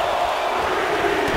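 Arena crowd in WWE 2K19 during a Royal Rumble match: a steady, dense roar of cheering that stays constant through the short moment.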